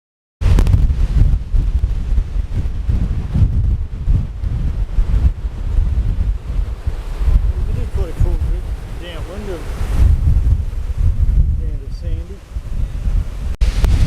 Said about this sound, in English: we're here on an extremely windy day